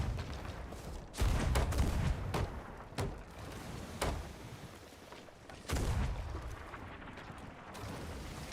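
Ship cannons firing in the pirate game Sea of Thieves, several heavy booms spaced irregularly over a rumbling background, loud and close, no voices.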